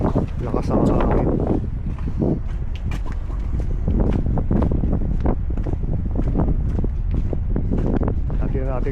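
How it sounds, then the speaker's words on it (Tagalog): Strong wind buffets a DJI Mic Mini microphone in a steady outdoor roar at Côte-des-Neiges, with a person talking over it throughout. "Napakalakas ang hangin guys, no? Napaka-windy."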